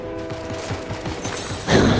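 Rapid sniper gunfire rings out in a Fortnite match, a quick series of sharp cracks with one louder burst near the end, with no talking over it.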